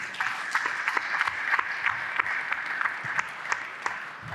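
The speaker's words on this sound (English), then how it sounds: "Please give them a round of applause again." Audience applause after a composites-in-construction conference session fills the room, a steady patter of many hands clapping at moderate distance without any voices.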